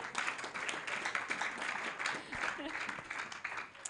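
A church congregation claps their hands in praise of God, a dense burst of overlapping applause mixed with voices and cheering from the crowd.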